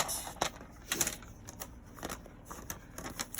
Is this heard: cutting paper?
yes